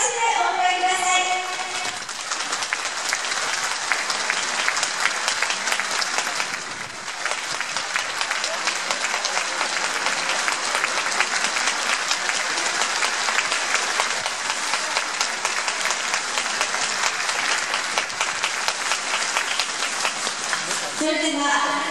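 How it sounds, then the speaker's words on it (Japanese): A stadium audience at a football player's retirement ceremony applauds steadily, a dense, sustained wash of clapping from a large crowd lasting the whole stretch, with a brief voice at the start. "ご来場の皆様、盛大な拍手でお迎えください。"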